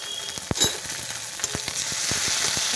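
Ginger, garlic and onion paste frying in a pan gives a steady close sizzle, broken by several sharp spoon taps and scrapes as it is stirred, with no voices.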